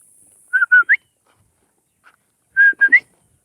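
A person whistles on a farm to call a dog, giving two quick clear bursts of three short notes each, the last of each set rising, near and alone in quiet surroundings.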